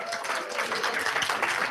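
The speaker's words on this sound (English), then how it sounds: "Another round of applause for Virgil Hammonds." Audience applause after an afternoon keynote at a conference, a full, fairly loud wash of many people clapping that continues steadily for under two seconds.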